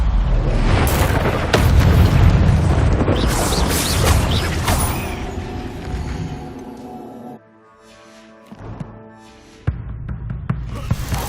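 A fire spell cast in the Hogwarts Legacy game, a loud whooshing magical burst with rumbling booms and crackle, followed by quieter lingering tones and a couple of sharp hits.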